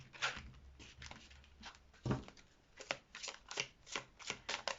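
A deck of tarot cards is cut and shuffled up close, giving soft rhythmic riffling pulses that repeat about every half second, quiet and dry with no voices.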